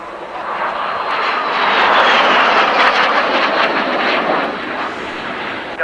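A loud two-seater jet aircraft roars past at around 600 miles an hour, swelling to a peak and then fading, a broad rushing engine noise with no talking.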